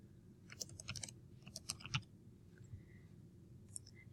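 Keyboard typing and clicking while renaming topics on a computer: scattered light key clicks in short bursts, fairly close, over a steady low background hum, with no talk.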